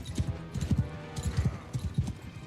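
A horse in the Old Realms Warhammer mod game trots with rapid, close clip-clop hoofbeats in an uneven rhythm, with no neighing evident.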